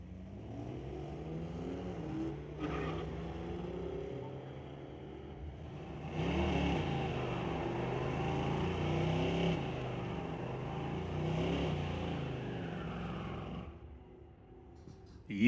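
A 2006 Ford Mustang and a silver BMW drag racing side by side at a street-legal night at a raceway park: engines rev and accelerate hard down the strip, a steady loud roar with shifting pitch, no talk.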